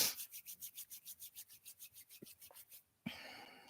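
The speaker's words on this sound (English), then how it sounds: "rubbing your palms together" Palms rub together briskly in a quick, even rhythm of roughly sixteen dry swishing strokes, then pause before a softer breathy hiss follows.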